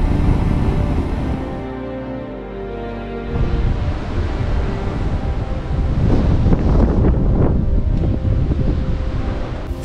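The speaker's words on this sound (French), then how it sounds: "Ce vent de fou, ça pèle." A fierce, icy wind in the Cévennes roars and batters the microphone in loud, sustained gusts that dip briefly then surge back.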